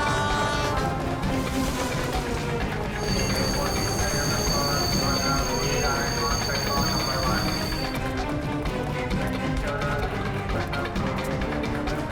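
A passenger train pulling out of a station, with a steady rumble and rattle of rail cars and a high whine through the middle, while people talk over it.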